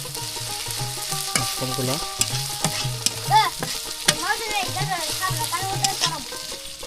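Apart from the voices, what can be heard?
onions and chilies frying in a pan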